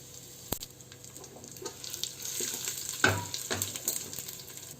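Masala spices fry in ghee and oil for Hyderabadi chicken dum biryani, giving a steady close sizzle with sharp crackles and the scrape and clink of stirring.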